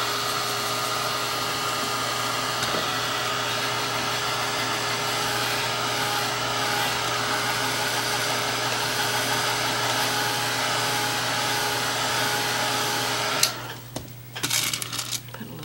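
A hair dryer runs continuously to dry acrylic paint on a cherry painting with a blurred background, a loud steady whirring blow that cuts off near the end, followed by a few small knocks.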